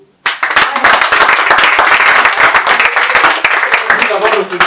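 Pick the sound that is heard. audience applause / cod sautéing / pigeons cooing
audience applause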